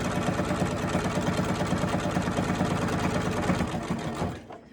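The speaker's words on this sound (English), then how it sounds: "Sewing, sewing, sewing." A sewing machine stitches a fabric mask in a fast, steady mechanical chatter, close and loud, then slows and stops at the end.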